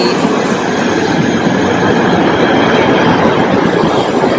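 A shuttle train on Malaysian public transport rumbles past close by, a steady loud roar of wheels on rails with a faint metallic squeal, continuous throughout.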